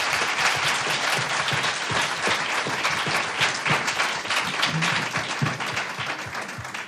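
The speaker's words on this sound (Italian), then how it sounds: "So we need an applause." An audience applauds at an event, with dense, sustained clapping from many hands that carries steadily for several seconds before tapering slightly.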